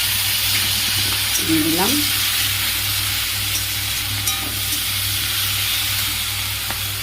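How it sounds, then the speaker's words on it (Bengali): Capsicum frying in a pan as ginger and garlic paste goes in, producing a steady close sizzle and hiss throughout, with a brief spoken phrase partway through. "এবার ক্যাপসিকামটা ভেজেছি, এর মধ্যে এবার এই আদা বাটা রসুন বাটা একটুখানি দিয়ে দেবো"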